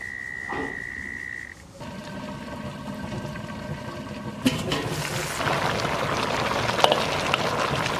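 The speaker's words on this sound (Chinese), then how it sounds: "盖上锅盖，小火慢炖3个小时" Beef bones simmer in a covered pot over low heat, a steady bubbling and burbling that grows louder and fuller after a few seconds.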